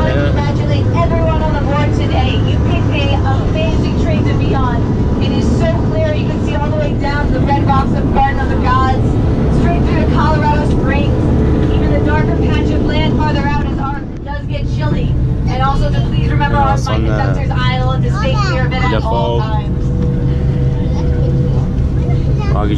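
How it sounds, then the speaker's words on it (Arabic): A cog railway train grinds steadily up Pikes Peak at around 10,000 feet, a continuous loud rumble and rattle filling the whole stretch while people talk over it inside the car. "الآن راكبين في القطار رايحين فوق"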